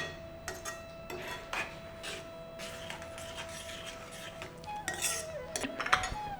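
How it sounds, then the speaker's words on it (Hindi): A metal spoon scrapes and clinks against a pot while kesari sevaiyan, sweet vermicelli with raisins and sugar, is stirred. The taps and rubs come close and fairly quiet, irregular, with a brief cluster of louder clatters near the end. "और इसको चलाते रहिए।"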